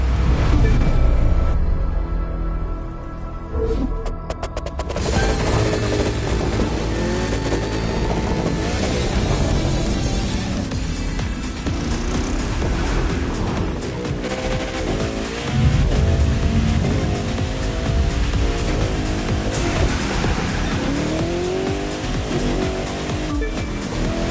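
Engines roar continuously through a car race in the video game The Crew 2, a dense, loud wash of revving motors with shifting pitch and surging passes, and a brief quieter dip early on.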